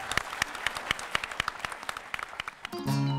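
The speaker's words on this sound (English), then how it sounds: "how about a round of applause for all of you guys?" A small group applauds a conference panel, the claps fairly sparse and individually distinct, before a loud tonal sound cuts in at the very end.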